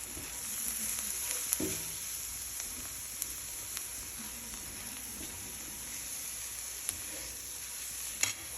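Roasted garlic sizzles steadily as it is stirred around in a hot pan, a constant frying hiss with occasional soft scrapes and clicks of the utensil, close and alone without talk.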